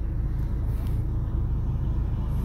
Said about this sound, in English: We just need to wait until these two cars come by.